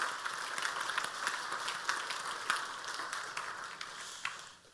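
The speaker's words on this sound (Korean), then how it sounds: "다시 한번 우리 할렐루야 찬양대 여러분 박수 쳐주시기 바랍니다." A church congregation applauds the choir after a hymn, soft steady clapping from many hands in a large hall, fairly distant and fading out at the end, with no talk over it.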